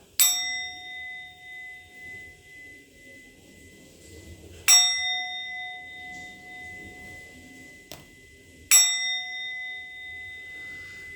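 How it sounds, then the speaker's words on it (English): A bell is struck three times, each ring a clear metallic clang with long sustaining tones that decay slowly, spaced a few seconds apart, with quiet room noise in between. "I'm going to ring the bell."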